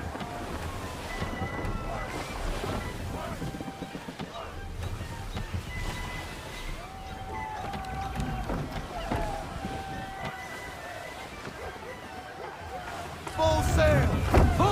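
Sailing ship at sea in Assassin's Creed 3, with a steady wash of wind and sloshing waves against the hull, game voices and music over it, and a louder surge of water near the end.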